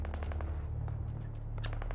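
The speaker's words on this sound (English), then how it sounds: "Oh, I can hear gunfire." Rapid gunfire in the video game Fallout 4 crackles in bursts over a steady low rumble, sounding somewhat distant and synthetic, with no talking.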